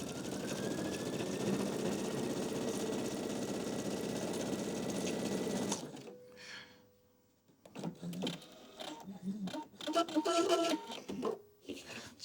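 A domestic sewing machine runs steadily for about six seconds, stitching a three-step zigzag seam to mend a rip in fabric. It stops abruptly, and short bursts of handling noise and a voice follow.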